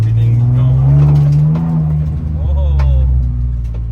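A supercharged BMW E46 M3 on a road test, its engine droning loud and close as it pulls and revs through a gear, the note rising then settling, with a brief tire or whine chirp near the end.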